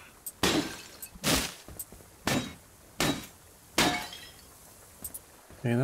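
In the game Dysmantle, an object is smashed with five loud, crashing, glassy impacts spaced roughly a second apart, each followed by a brief rattling decay, close and with no voice.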